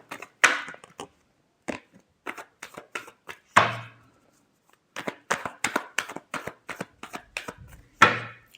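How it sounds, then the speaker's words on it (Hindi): A deck of tarot cards is shuffled by hand in short, crisp riffling bursts separated by pauses, close and quiet, with a few sharper snaps where the cards come together and no talking. "Last shuffle."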